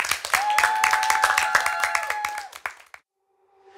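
Studio audience on the IDJ Show TV talent show applauds a singer, a dense, steady burst of clapping lasting about three seconds before cutting off to near silence with a faint lingering tone.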